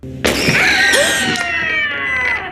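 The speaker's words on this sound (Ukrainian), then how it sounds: "щоб ми чули, як кричить бабуся" A grandmother's scream from a film carries through a house intercom: a sudden, loud, piercing shriek that starts abruptly and holds for about two seconds, with crashing noise mixed in.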